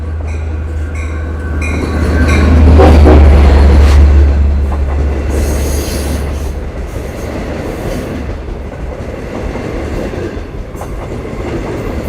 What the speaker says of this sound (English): Look at this train, folks.